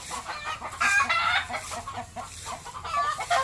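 Several chickens cluck in a busy, overlapping chorus, with short bursts of clucking repeating through the clip at moderate loudness.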